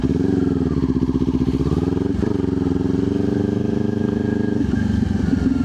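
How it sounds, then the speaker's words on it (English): A motorcycle engine runs steadily and close by while the rider rolls off the throttle, pulls the clutch and clicks down from second into first gear, with the engine note shifting as the gear changes. No one speaks. "So to downshift a motorcycle, we're gonna roll off of the throttle, pull in the clutch, kick down on the shifter."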